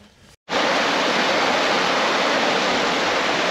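A small waterfall in the Lake District fells gives a steady, close, loud broadband rush of falling water that cuts in after a brief quiet gap and holds unbroken to the end, with no voices.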